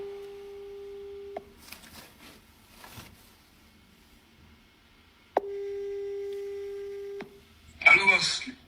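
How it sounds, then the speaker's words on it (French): Telephone ringback tone while placing a call: two long steady beeps separated by a quiet gap, with faint movement in between, followed by a brief burst of voice as the call is answered. "Je vais appeler Mkido parce que là c'est un peu allé fort."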